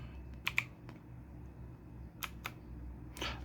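Keystrokes on an AULA F2088B typewriter-style mechanical gaming keyboard, a few sharp, close clicks spaced irregularly with short pauses, over faint room hum.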